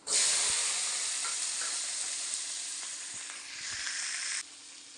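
Steady, loud sizzling of onions frying in hot oil with mustard and fenugreek seeds, a continuous bright hiss with faint stirring clinks, dropping off abruptly near the end.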